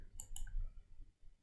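A computer mouse clicks twice in quick succession during graphic design work in CorelDRAW, faint sharp taps over low room hum.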